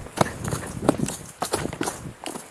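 Footsteps in the woods, a series of irregular crunching steps on forest ground, fairly close and moderately loud, alone without speech.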